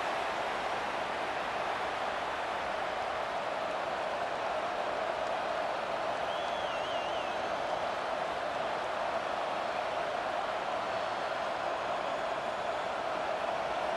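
Loud, unbroken roar from a home stadium crowd at a Georgia vs. Texas college football game on third down, a dense wall of cheering with a faint whistle-like tone rising briefly midway.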